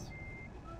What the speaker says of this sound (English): I am reversing my car.